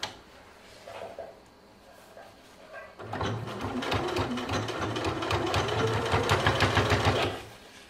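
A sewing machine stitches a zip onto softshell fabric for an indoor-outdoor jumpsuit, starting after a few seconds of handling and running in a fast, close, steady mechanical chatter until it stops near the end.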